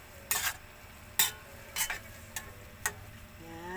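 A spoon scrapes and stirs tofu into bopis in a pan, five sharp strokes over a soft, steady sizzle of frying, with no talk.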